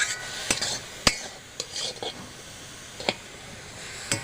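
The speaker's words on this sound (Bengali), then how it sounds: "15 মিনিট ধরে আমি এটা ভেজে নেব।" Grated carrots fry slowly over medium heat in a pan for carrot halwa, a soft sizzle under sharp scattered clinks as a spoon scrapes and stirs against the metal, close and fairly quiet with pauses between strokes.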